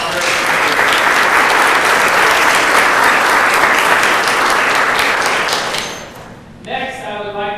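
A luncheon audience claps in a full, loud round of applause that holds steady before tapering off, after which a voice starts speaking.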